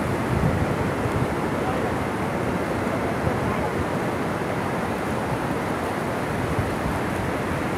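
Ocean surf rolls and breaks continuously on Varca Beach in South Goa, a loud, dense roar with wind buffeting the microphone and no distinct pauses between waves.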